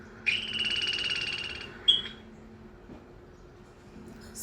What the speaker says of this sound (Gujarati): ખિસકોલીનો અવાજ તો સાંભળ્યો જ હશે.